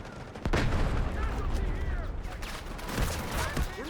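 Gunfire in the online shooter Delta Force: rapid close bursts of shots, cracks and echoing reports layered over a dense battlefield din, loud and continuous across the moment.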